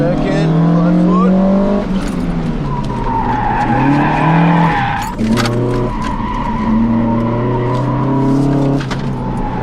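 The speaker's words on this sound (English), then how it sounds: "Hard on the brakes in here." A Toyota MR2 brakes hard on a race track, its tires skidding and squealing loudly over the engine's drone as it slows, a voice speaking briefly in the car.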